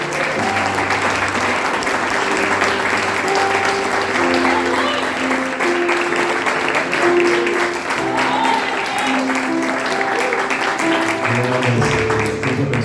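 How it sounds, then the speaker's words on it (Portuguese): A church congregation at a family and Father's Day service applauds for the fathers, with steady, sustained clapping from many hands and sustained keyboard tones underneath for the whole stretch. "Tem uma salva de palmas para os papais?"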